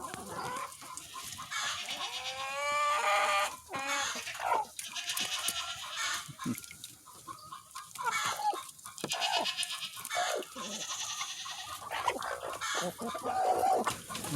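Chickens cluck and call around a backyard coop shared with peacocks, with overlapping clucks and squawks fairly close and continuous, plus a few louder cries.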